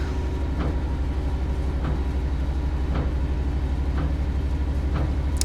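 Freight train on UK rails passing close by: a continuous loud low rumble with regular wheel clicks about once a second as wagons roll past.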